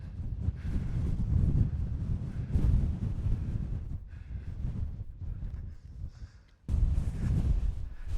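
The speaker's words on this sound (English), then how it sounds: "Still windy" Strong gusting wind buffets the microphone high on the Langdale fells near Bowfell and Crinkle Crags, a loud continuous low roar rising and falling in waves with a brief lull before another blast.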